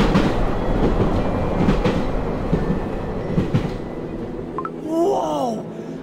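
A train runs along the rails in the Cookie Run Kingdom game, a loud, steady rumble with rhythmic clacking that fades near the end as a brief wailing tone rises.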